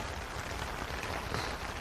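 Loud, steady rain pours close by on a farm side road in Japan, a dense even hiss of drops striking the ground with no voices.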